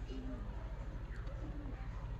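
Pigeons kept for sale at a loft in Uluberia give off soft, low cooing, faint against a steady low background hum with no clear talk over it.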